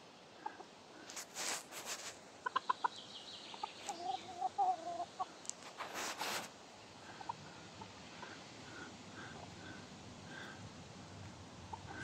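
Roosters and hens in a garden flower bed give soft clucks and short calls, scattered bursts in the first half, then quieter intermittent clucking over faint outdoor ambience.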